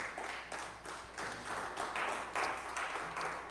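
A church congregation claps together for the Lord in a rhythmic, sustained burst of applause that fills the room at a fairly even loudness throughout.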